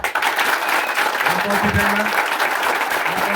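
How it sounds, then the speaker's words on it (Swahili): An audience at a gathering breaks into dense, steady applause that fills the whole clip, with a brief voice sounding through it partway. "makofi"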